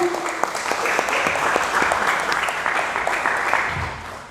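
An audience at an Indonesian business seminar applauding, a dense burst of many hands clapping close and loud that tapers off near the end.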